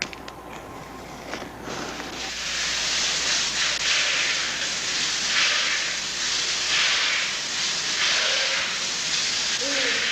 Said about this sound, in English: High-pressure sprays are used to stimulate the body, reportedly alerting and invigorating millions of tired cells.